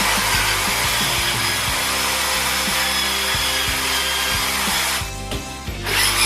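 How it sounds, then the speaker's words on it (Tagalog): Power drill boring holes into a wall for urinal expansion bolts, a loud steady motor whine with grinding bite running continuously, dipping briefly near the end. "Ngayon po ay babarinahin na po natin."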